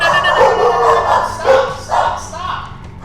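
A dog barking and yipping in short, close bursts, with whimpering tones between the barks; the sound is near and fairly loud.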